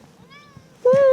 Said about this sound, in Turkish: Kedi kardeş de geldi.